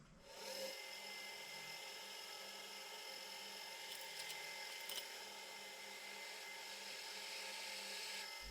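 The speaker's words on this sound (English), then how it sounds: "I'm using a brand new drill for this." A brand new drill bores a hole in metal for a lathe tailstock (footstock) build: a steady, high, whining drill sound running continuously at moderate volume, with no talk.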